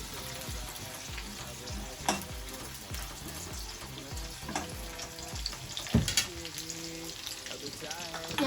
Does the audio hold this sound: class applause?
no